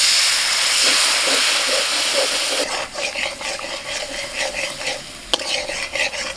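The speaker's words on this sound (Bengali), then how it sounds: "হলুদ গুঁড়ো, লঙ্কা গুঁড়ো, নুন, একটু জল দিয়ে কষিয়ে নেব।" Spices sizzle and hiss as turmeric, chili powder and salt are stir-fried with a splash of water for a taro and shrimp curry, with a loud steady sizzle at first and then scraping stirs and bursts of frying.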